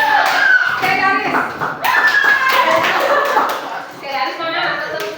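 Schoolchildren in a junior high classroom clap their hands together, a loud, busy patter that runs through the whole stretch while voices talk and call out over it.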